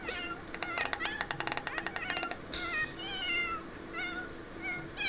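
Kitten meowing, a rapid run of short clicking chirps followed by several thin, rising mews, close and fairly clear over a soft background hiss with no speech.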